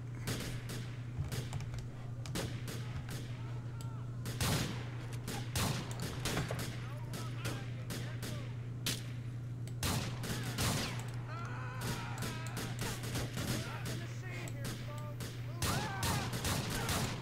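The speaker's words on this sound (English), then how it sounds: "Fuck, gun shots have been fired." Gunshots fired during a staged armed standoff, a run of sharp, loud cracks scattered irregularly across the scene over a constant low hum, with no speech.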